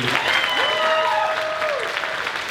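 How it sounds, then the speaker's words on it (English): Audience applause for beauty pageant contestants at the Miss Vietnam Wichita pageant, loud, dense clapping throughout with a voice calling out over it. "Could I have another round of applause for our beautiful ladies?"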